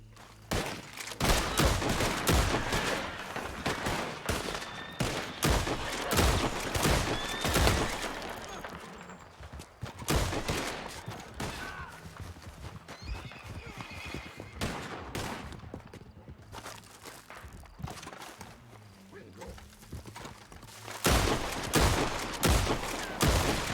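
A Western video game shootout outside Armadillo, with deputies opening fire in rapid bursts of gunshots and a horse whinnying in the middle of the battle. The firing is loud and close and comes in dense volleys with brief lulls.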